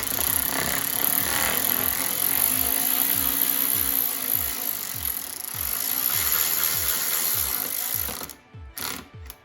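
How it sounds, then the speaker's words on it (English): A power drill whirs steadily, with repeated rising spin-up sweeps as self-tapping screws drive in while fitting Fox-body side splitters, then a few short bursts near the end. "Grab your drill, nice and slow. You don't want to strip these out."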